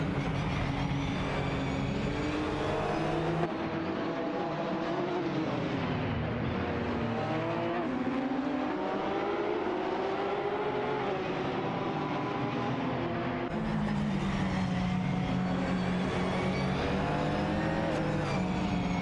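Race cars from an AI racing simulation drone continuously side by side down a straight, their engines rising and falling in pitch as they shift gears, loud and unbroken.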